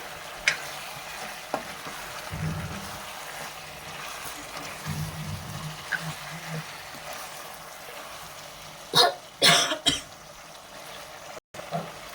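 Chicken pepper dry sizzles softly in a pan while being stirred, a low steady fry with scraping strokes, followed by a few loud bumps near the end.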